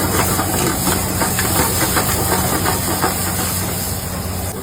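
Onion, tomato and ginger-garlic paste fry in a pan for a paneer dish, giving a loud, steady sizzling hiss that runs unbroken and close with no talking.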